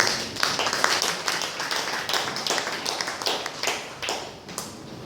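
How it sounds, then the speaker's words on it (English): Scattered round of applause from the audience at a ministerial press briefing, individual claps distinct and uneven, moderately close, with no talking over it. "I think we all deserve a round of applause."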